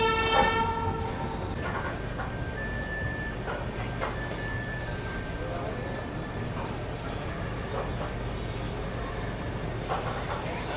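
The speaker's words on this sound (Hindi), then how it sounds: "जा रही है कच्छ सुपरफास्ट मुंबई बांद्रा। अभी जस्ट यहाँ से उसने डिपार्चर लिया है।" Kutch Superfast express pulling out of a station bound for Mumbai Bandra, a steady rolling rail rumble with a brief horn-like tone at the very start, heard from nearby at constant loudness.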